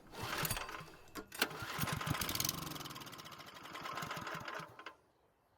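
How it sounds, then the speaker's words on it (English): A Craftsman snow blower engine, carburetor removed and fed starting fluid, fires up and runs rough and rapid for a few seconds with uneven pulses, then cuts out abruptly near the end. "we can now spray some starting fluid into the engine and give it a test start"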